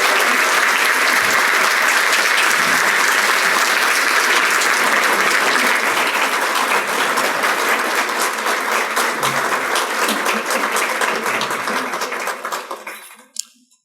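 A lecture audience breaks into sustained, dense applause after a talk on identity as performance. The clapping stays full and steady for about twelve seconds, then thins and dies away with a few final claps.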